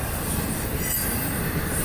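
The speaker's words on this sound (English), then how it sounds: "Ah, it's a short train though." A short FEC Railway train passes close by with a steady, loud roar of wheels on rail and a high, squealing edge throughout, with no talking.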